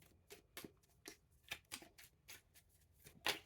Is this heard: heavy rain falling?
no